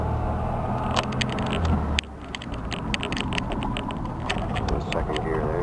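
A 1972 VAZ 2101, built on the Fiat 124, drones steadily on a town street, with a brief dip in engine note as it shifts into second gear, then continues under a constant road rumble.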